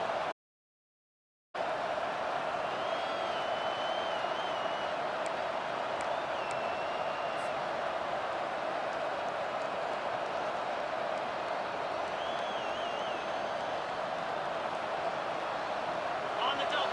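Steady roar of a stadium crowd in a college football video game, continuous and broad throughout apart from a brief silent gap near the start, with faint whistle-like tones rising above it.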